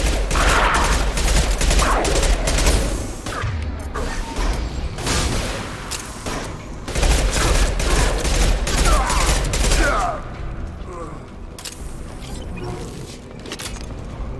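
Gunfire rattles in the Mass Effect 2 video game, with loud, dense bursts of rapid shots and impacts in the first ten seconds, then sparser single shots and mechanical clicks that fade toward the end.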